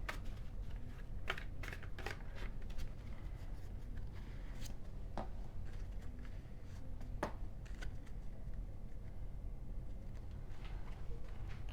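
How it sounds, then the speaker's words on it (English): Tarot cards being shuffled at close range, with repeated soft riffling and sharp flicks scattered over about twelve seconds against a low, steady background hum. "let's go ahead and shuffle."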